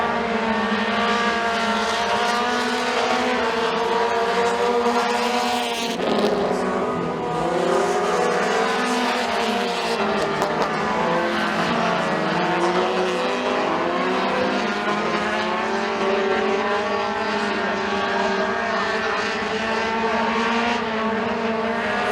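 Mini Stock race cars lapping the dirt oval at McKean County Raceway, a loud, continuous engine drone with several cars' revving tones overlapping and shifting pitch as they pass through the turns.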